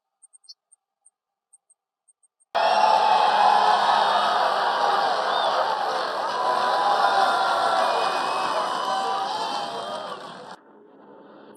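A large crowd applauds and cheers for sailors of the aircraft carrier USS Harry S. Truman at a Navy anniversary event, a dense, loud, sustained roar of clapping and whoops that fades out near the end.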